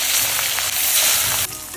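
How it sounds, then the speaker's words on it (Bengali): Turmeric- and salt-coated rohu fish pieces fry in hot oil with a loud, dense, continuous sizzle up close and no voices. "গরম হয়ে গেছে আর মাছগুলো দিয়ে দেবো।"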